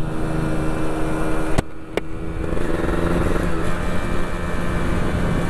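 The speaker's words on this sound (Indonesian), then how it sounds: "Tuh, bisa naik motor." Motorcycle engine hums steadily on a solo tour ride toward Kolaka Utara, heard up close with wind rush and two sharp clicks early on.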